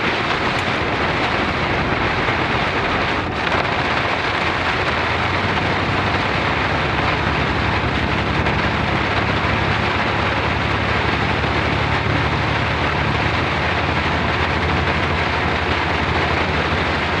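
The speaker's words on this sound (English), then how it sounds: "This rain is not going to stop." Heavy rain pounds steadily on a truck during a storm, a dense, loud, unbroken wash of noise that continues from start to finish with a low rumble beneath it.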